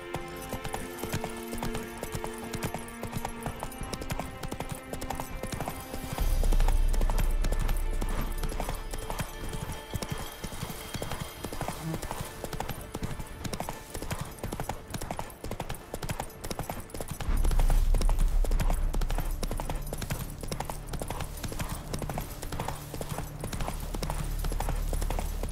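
A horse gallops in The Witcher 3, a continuous rapid clip-clop of hooves with steady rhythm, swelling with heavy low thuds at two points, set against game sound.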